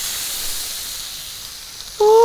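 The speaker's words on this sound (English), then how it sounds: "We're gonna give this pork a little sizzle." Italian sausage pork hits a hot pan and breaks into a sharp, loud sizzle that starts abruptly near the end, following a stretch of faint steady hiss.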